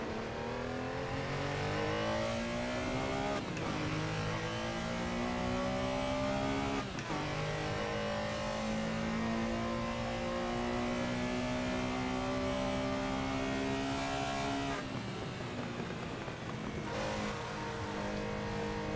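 Classic Porsche Carrera RSR race car in the Assetto Corsa racing game, its engine holding a loud, steady high-revving drone with brief dips at a few gear shifts, climbing in pitch between changes.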